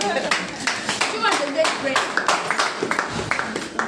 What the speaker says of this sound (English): Please clap for P1.